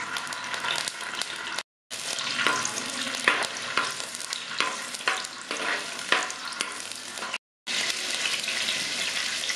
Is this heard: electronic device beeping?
no